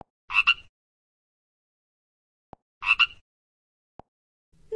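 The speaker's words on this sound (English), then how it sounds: "Frog." A frog gives two separate croaks a couple of seconds apart, each a short rasping burst, fairly close and alone against silence.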